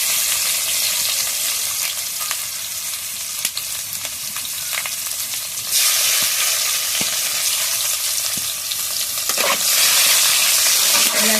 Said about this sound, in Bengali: পেঁয়াজটা ভালোভাবে লাল লাল করে ভেজে নেবো।